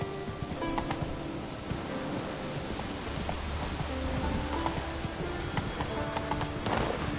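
Roach, the horse from the video game The Witcher 3, trots with a steady clip-clop of hooves against a backdrop of light rain and game ambience, continuous and fairly close.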